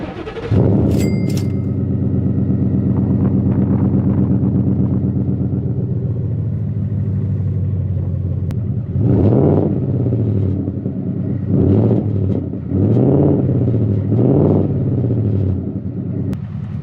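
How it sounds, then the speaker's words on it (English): Ford F150 pickup fitted with a Rough Country exhaust, idling with a deep, steady rumble close by, then revved several times in quick swells that rise and fall back to idle. "This is the Rough Country exhaust. It's nice and beefy. Let's hear how that sounds."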